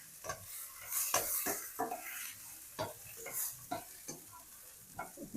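Onion and tomato stirred and sautéing in a pan, a steady sizzle broken by repeated scraping strokes of a spoon against the metal, close and moderately loud with no talking.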